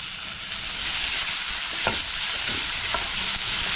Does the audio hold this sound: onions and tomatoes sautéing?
yes